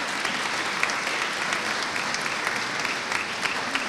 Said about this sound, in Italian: voglio fare un applauso a tutti quanti voi qui presenti